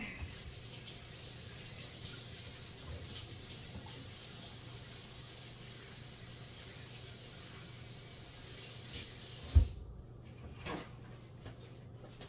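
A kitchen tap runs steadily for hand washing in a faint, continuous hiss, followed by a sharp knock and the water cutting off near the end, with no talking.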